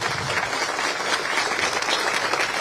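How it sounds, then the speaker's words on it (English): An audience at a governor's speech gives a round of applause, a continuous even patter of many hands clapping at moderate volume. "I really think everybody should give them a big round of applause for making this happen."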